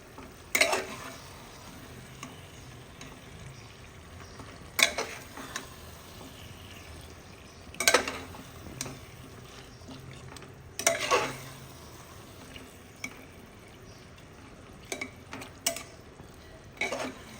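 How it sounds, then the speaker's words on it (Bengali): Mutton being stirred in a pan over a low flame for a Bengali-style curry, with a few loud scraping stirs spaced several seconds apart over a soft background sizzle. "তারপর আস্তে আস্তে করে মাটনটাকে আগে ভালোভাবে মিক্সড করে নেব।"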